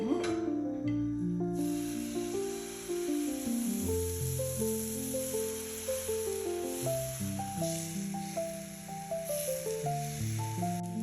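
Besan chilla batter sizzles on a hot oiled pan with a soft, continuous hiss, sitting low beneath louder background music throughout.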